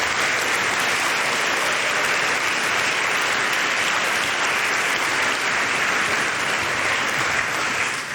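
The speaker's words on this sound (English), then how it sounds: "So a special applause to the people who do the audio" A conference audience at Falling Walls 2019 gives a loud, dense, unbroken round of applause for the audio technicians, steady and full throughout with no voices on top.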